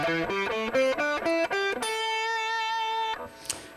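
Electric guitar through heavy distortion, a quick run of distinct notes climbing a pentatonic scale, then a long sustained ringing note that cuts off, loud and close with no voice.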